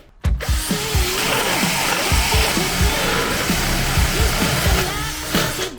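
A cordless drill in second gear whines steadily at high speed, a 22 mm spade bit biting through wood with a loud, continuous grinding roar and small pitch dips as the bit bogs under load.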